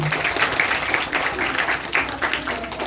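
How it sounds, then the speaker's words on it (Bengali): An audience breaks into steady, dense applause for a top-scoring student at a school gathering. The clapping is loud and sustained throughout, with no speech over it. "এবং সেই রেকর্ডটা করেছে মেহেজাবিন এশা, তার জন্য একটা হাততালি।"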